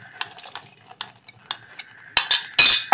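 A spoon clinks and scrapes against a pan while a mango, paneer and milk mixture is stirred, light scattered taps at first, then louder, busier scraping strokes close up.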